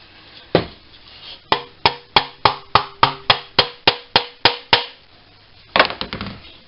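Sharp metallic hammer blows on pliers used to bend a tab during reassembly of a restored Wilesco toy steam engine: a single strike, a pause, then a quick regular run of about a dozen close, loud taps, and a final few ringing hits.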